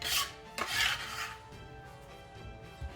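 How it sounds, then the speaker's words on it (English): A knife roughly chops fresh vegetables for pico de gallo on a cutting board, making a few quick, close, crisp strokes early on and then softer scattered taps. "Give it a rough chop."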